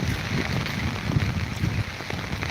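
Morning rain pours onto a flooded road, a steady dense hiss with water rushing beneath it and faint wind buffeting the microphone.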